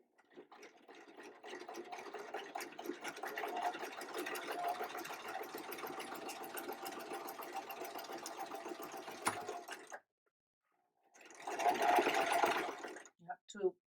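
Old sewing machine quilting a pillow: a long steady mechanical whir with rapid stitching chatter for about ten seconds, a short pause, then another brief burst, up close and fairly loud.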